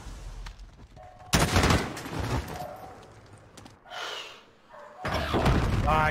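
Shotgun blasts in Call of Duty Modern Warfare during a Search and Destroy match: three loud, sharp booms spaced a few seconds apart, each with a brief tail, amid quieter game effects.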